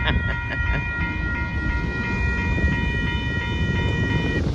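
Union Pacific mixed freight trains passing at a crossing, a loud steady rumble of rolling cars with a sustained multi-tone bell-like horn ringing above it.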